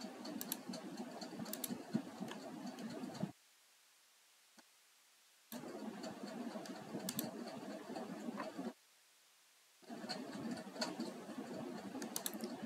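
Keys clatter in quick, uneven bursts on a computer keyboard while a Blogger menu page named for fitness is set up, with two short pauses of near silence between the bursts.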